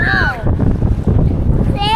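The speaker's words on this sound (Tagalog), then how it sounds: "The wind is so strong." Strong outdoor wind buffets the microphone on a cold family afternoon in Chatswood, a loud, rumbling low roar gusting unevenly, with a child's and an adult's voices briefly breaking through at the start and end.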